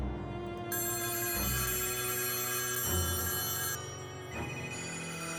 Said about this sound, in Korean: 사무실의 전화기가 큰 소리로 울린다.